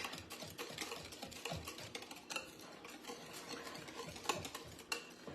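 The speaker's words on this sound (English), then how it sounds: "Just whisk all that pudding in there." Instant pudding mix is whisked in a bowl, a faint, quick, rhythmic patter of ticks and swishes heard alone and close.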